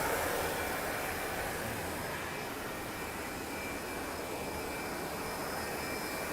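ZTJ200 paper cup machine running, a loud continuous mechanical roar and hum with faint tonal whine, steady throughout with no speech.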